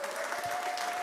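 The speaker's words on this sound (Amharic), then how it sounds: "ለእግዚአብሔር ቃል አጨብጭቡና ተቀመጡ።" A church congregation applauds together in a hall, a steady wash of handclaps filling the whole moment with no speech over it.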